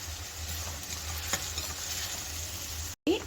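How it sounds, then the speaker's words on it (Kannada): Onions with curry leaves sauté in a pan on the stove, giving a soft steady sizzle with faint stirring scrapes, quiet and close, broken by a brief dropout near the end. "ಈರುಳ್ಳಿನ ಸ್ಟವ್ ಮೇಲೆ ಬಾಡಿಸ್ಕೋಬೇಕು."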